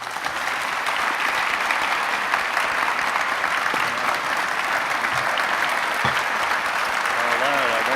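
Sustained audience applause at an award ceremony honoring an author, a dense, even roar of clapping lasting the whole stretch, with a few faint voices emerging near the end.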